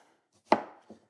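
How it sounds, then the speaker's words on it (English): A knife chops through cucumber on a board, cutting it into little blocks: one sharp, close chop followed a moment later by a softer second cut, alone in a quiet kitchen. "Line that up, and we're just pretty much making little blocks of cucumber."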